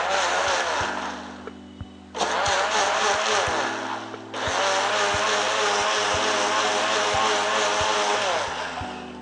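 A blender whips banana, strawberry and milk into a smoothie with a loud, roaring motor whir that dips briefly twice before surging back and running steadily.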